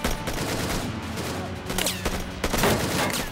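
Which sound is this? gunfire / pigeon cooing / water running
gunfire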